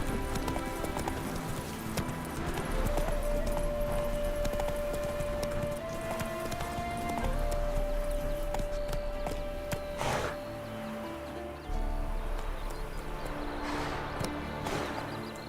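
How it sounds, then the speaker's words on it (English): Horse hooves clop steadily in the Witcher 3 video game, a continuous rhythmic galloping patter mixed with game music and ambient sound. "I got a horse!"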